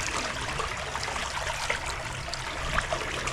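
Creek water rushes through a freshly unclogged culvert intake grate, a steady, close gurgling flow with small splashes and trickles rising above the continuous wash.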